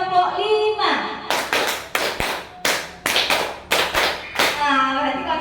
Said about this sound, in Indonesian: Tepuk 4, 2 kali tepuk 5.